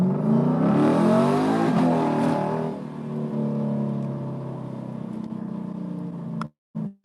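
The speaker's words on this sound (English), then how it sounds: "who wants to hear the mighty 5-litre V8?" A car's 5-litre V8 engine revs hard, rising and falling in pitch over a few seconds before settling into a lower steady drone that cuts off abruptly.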